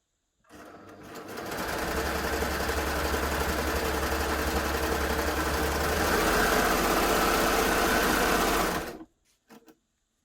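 A Baby Lock Gloria combination machine gathers fabric at maximum stitch length, running in one continuous fast whirring burst of about eight seconds, slightly louder near the end, then stopping with a couple of faint clicks.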